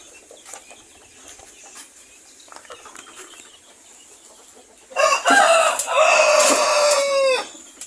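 Native hens cluck softly in a yard, then a rooster close by lets out a loud, long crow that rises and trails off over several seconds, with scattered clucks and rustling underneath.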